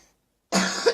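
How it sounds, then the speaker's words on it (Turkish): A single loud, harsh cough bursts out after half a second of near silence, close and alone with no talking. "sabah öksürüğüm çok oluyor"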